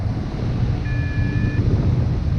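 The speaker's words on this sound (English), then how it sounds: "I come to land, and you can hear the beeping." A hang glider's flight instrument gives a single steady electronic beep lasting under a second, heard over constant rushing wind noise while the glider comes in to land at Mam Tor in Derbyshire.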